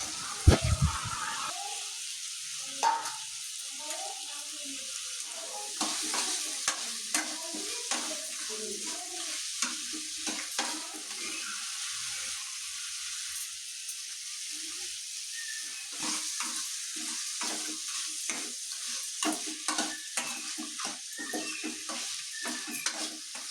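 Steady crackling sizzle of fish frying in hot oil on a flat dosa griddle, with occasional stirring and scraping sounds, no talking.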